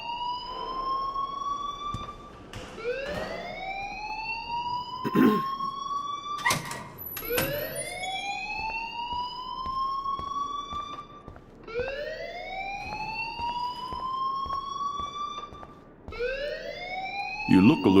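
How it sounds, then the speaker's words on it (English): In the video game Life is Strange, an alarm wails with repeated rising, siren-like sweeps, each lasting a couple of seconds, loud and steady across the stretch alongside background game noise. "please turn off that alarm since that's your job"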